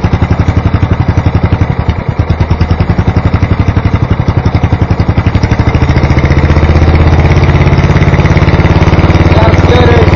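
Racing lawn mower engine with a modified exhaust pipe idles up close, a loud steady pulsing chug that grows a little fuller and rougher toward the end.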